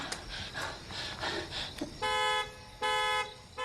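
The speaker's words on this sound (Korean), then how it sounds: "놈은 큰 경적 소리에 여지없이 반응하죠." A car horn honks twice, loud and close, two sustained blasts in quick succession after a moment of quieter rustling and movement.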